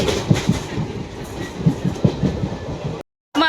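A train rolls into a railway station with steady clickety-clack of wheels over rail joints, loud and close, before the sound abruptly cuts off.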